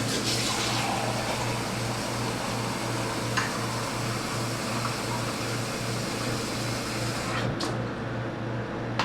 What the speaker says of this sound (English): you cut on the cold water and you've got to let it get cold